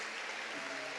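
Audience applause during a church service: a brief, faint, steady wash of many clapping hands heard from a distance.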